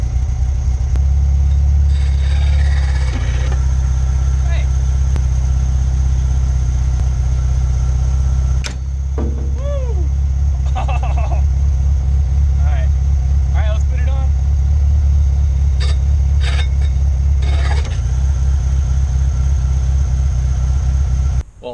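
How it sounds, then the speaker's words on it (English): A Volkswagen Beetle engine idles loudly and steadily, with a drive belt flung on while it runs; someone talks over the rumble, and some squeaks and clanks cut in midway. "I'm ready to turn the engine on and attempt to fling this thing on while the engine's running."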